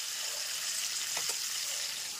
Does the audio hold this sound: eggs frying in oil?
yes